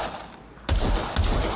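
An M1911 pistol fires in the virtual reality shooter Onward, two sharp, loud, close shots about half a second apart, with a short decay after each.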